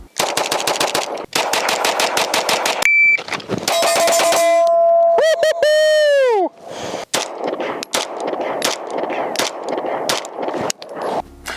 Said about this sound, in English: I'm not going to pass up an opportunity to shoot some really high-end 2011s